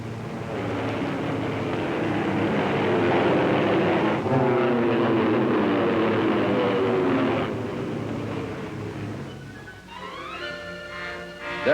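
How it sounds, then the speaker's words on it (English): Propeller-driven combat airplanes fly past as a loud, sustained engine drone that swells and holds, then thins toward the end, with a brief tonal whine near the close. "it becomes essential at times to use combat types of airplanes for this kind of work"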